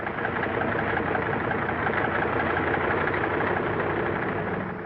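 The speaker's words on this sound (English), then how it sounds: "The sound of the engines warming up starts before dawn, echoing back from the mountains that flank the field." Piston engines of WW2 bombers warming up before dawn on an Aleutian airfield flanked by mountains, a steady, loud, continuous drone with rough mid-low rumble and no pauses.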